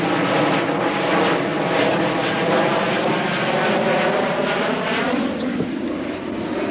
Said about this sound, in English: There's another Boeing 737 going overhead right now